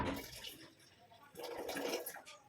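Water is poured slowly into a pot while preparing homemade summer sun-dried foods; a faint, soft trickle swells gently at the start and again later, quiet and close.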